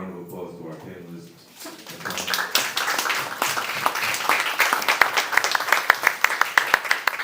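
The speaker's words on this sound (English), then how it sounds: "Can we just give a round of applause to our panelists?" A conference audience at a Microsoft Experience Center in NYC breaks into steady applause for a panel, a dense mass of clapping that swells after a voice and keeps going with sharp individual claps near the end.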